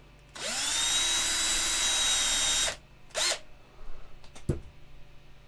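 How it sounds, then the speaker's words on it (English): An electric drill bores into a 1/6 scale resin model kit part with a steady high whine lasting about two seconds, then a short second burst follows, and small handling clicks trail after. "Put a drill into it."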